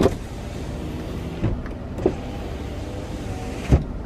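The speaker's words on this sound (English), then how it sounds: "Passenger side rear window." The rear passenger-side power window of a Buick Lucerne hums steadily as it travels, with soft thuds at the start and end of its run, heard up close inside the car.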